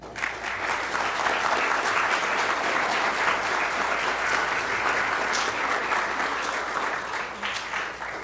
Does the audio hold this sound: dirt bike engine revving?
no